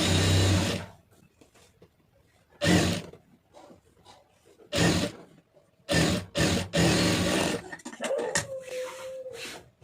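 A sewing machine stitches around a lined blouse in several loud, sustained runs separated by short pauses, with a brief higher whirring at the end.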